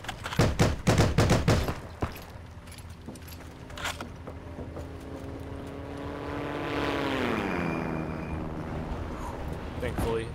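Military aircraft on a bombing run in the game Heroes & Generals: a burst of loud explosions and gunfire opens, then a propeller plane's engine drones steadily and rises in pitch as it passes overhead.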